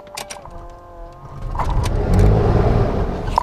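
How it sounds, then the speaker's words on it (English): The left engine of a Beechcraft Baron aircraft turns over and builds into a loud, rising rumbling roar up close, after some brief tones and clicks at the start. "So we're going to start cranking the engine."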